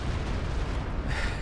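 Artillery booms and rumbles in a Company of Heroes 2 battle, a dense, low, continuous barrage with no clear gaps, sounding somewhat distant and steady throughout.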